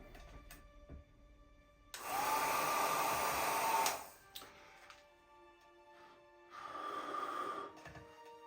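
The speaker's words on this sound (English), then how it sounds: "Gonna take my little small dryer and blow it out." A small dryer blows acrylic paint with cell activator in two loud, steady bursts of whirring air, the first about two seconds long and the second shorter, separated by quiet.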